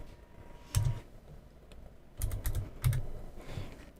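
Keys clack on a computer keyboard in short, irregular bursts, close and fairly quiet, with no voices.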